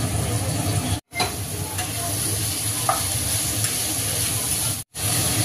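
Capsicum and onion stir-frying together in a hot pan for Hakka noodles, a loud, continuous close-up sizzle and hiss, broken by two brief silent cuts.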